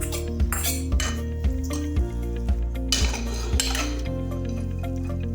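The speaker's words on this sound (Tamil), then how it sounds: "நல்லா கலந்து விட்டுக்கலாம்." A spoon stirs ragi filling mixed with nuts in a bowl, making repeated rhythmic metallic clinks and scrapes about twice a second, close and clear with a faint background hum.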